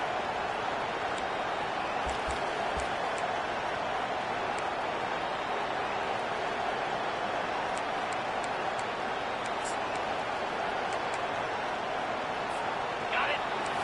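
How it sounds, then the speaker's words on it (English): A large stadium crowd at a football game roars steadily and loudly throughout, a dense, continuous wall of cheering with no breaks. "This crowd is trying to inspire this defense to make a big red zone stop"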